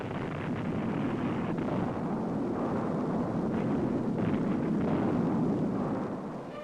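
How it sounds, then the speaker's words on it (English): Blasting with dynamite against the canyon walls during Hoover Dam construction: a loud, sustained rumbling roar that swells and holds steady for several seconds before easing off, with no voices. "Explosions rocked the canyon almost daily for 2 years before actual placing of concrete in the"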